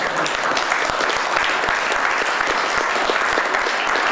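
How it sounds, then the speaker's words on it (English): Large audience at a Trump Bitcoin summit breaks into applause, loud dense clapping that holds steady and close throughout without speech. "Okay, so lots of applause there."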